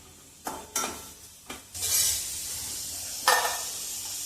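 Grated coconut being lightly roasted in a pan for coconut burfi, with several sharp spoon scrapes and knocks against the pan over a soft sizzle and hiss, close by and with no speech.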